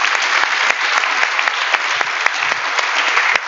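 An audience at an Arctic policy seminar applauds loudly, a dense, sustained burst of clapping from many people, steady and close, with no speech over it.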